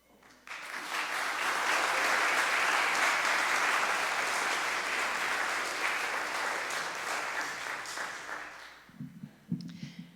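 Sustained applause from a church congregation during Sunday worship at First Parish in Concord, loud and steady for about eight seconds before fading, with a few brief voices near the end.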